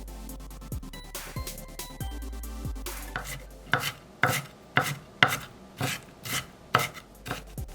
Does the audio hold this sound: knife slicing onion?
yes